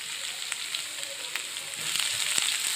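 Chopped green chillies frying with chopped garlic and ginger in hot oil for chilli chicken, a dense close sizzle that swells slightly toward the end, with a few faint stirring clicks and no talk.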